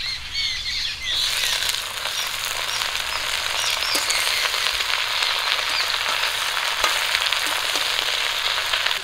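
Washed water spinach greens hit a pan of frying potatoes, and a dense, loud sizzle sets in and holds steady, with occasional stirring clicks over a faint low hum.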